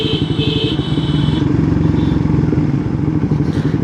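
Several motorbikes labour up a steep mountain road toward Sajek, their engines droning loud and close in a continuous, rough rumble with some clattering.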